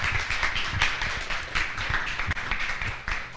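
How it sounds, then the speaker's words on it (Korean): Audience at a startup forum on the space industry clapping in a steady, dense burst of applause filling the room at moderate loudness. "예, 큰 박수 부탁드리겠습니다."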